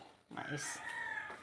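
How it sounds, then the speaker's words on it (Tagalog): A single chicken call rises and holds briefly, close and moderately loud, against a quiet background. "Murag manok."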